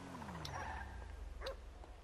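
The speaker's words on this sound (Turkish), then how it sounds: "Köpek var burada." Dog barking in GTA V, a couple of short barks and yips heard close over a steady low rumble of game ambience.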